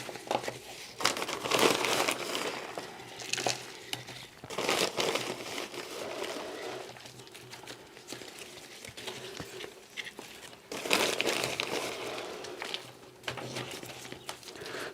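Potting substrate for an orchid being poured and pressed into a pot, giving repeated dry crinkling, rustling and pattering bursts at close range with brief quieter gaps.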